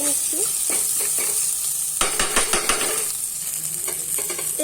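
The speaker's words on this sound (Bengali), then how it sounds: "নাড়িয়ে নিচ্ছি।" Tomatoes with salt stirred in a sizzling pan, bursts of spoon scraping and clatter over a constant frying hiss, close and fairly loud, no speech.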